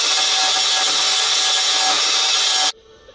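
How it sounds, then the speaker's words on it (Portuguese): Abrasive sanding on a metal body panel of a Volkswagen Kombi, a loud, steady grinding rasp that runs continuously for a few seconds and then cuts off abruptly, with no talking. "Dei uma lixadinha aqui"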